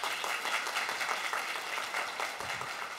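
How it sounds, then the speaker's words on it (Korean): Audience at a live violin performance applauding, a faint, steady wash of many hands clapping heard from a distance, with no voices over it. "박수 부탁드립니다"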